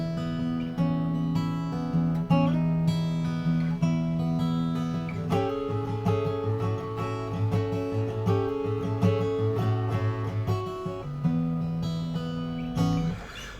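An electric guitar plays the chord part of a tune once through, close and alone, with ringing chords that shift and sustain over a steady pulse.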